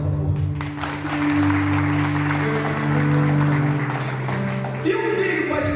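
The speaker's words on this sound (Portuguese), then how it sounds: "Aplauda, por favor" A congregation at a Catholic family sermon claps steadily in sustained applause while music and voices carry underneath, the clapping easing off near the end.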